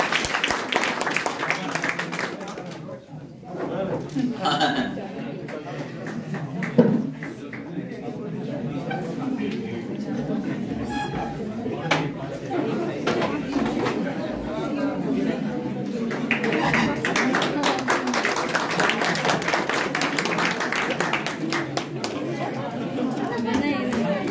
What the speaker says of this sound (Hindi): एक बार जोरदार तालियों से राजीव सर का आपको स्वागत।